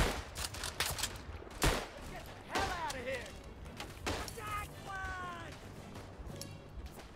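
Rifle gunfire in the World War I shooter Verdun, scattered sharp cracks and thumping shots near and far over a battlefield din, with a voice speaking through parts of it.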